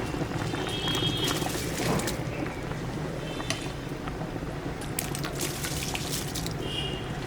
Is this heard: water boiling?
yes